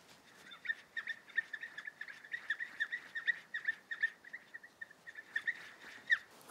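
A homemade bird-call instrument made from a plastic tube and string, imitating birdsong with a rapid series of bright chirps and squeaks. It plays close and fairly faint, with no voices.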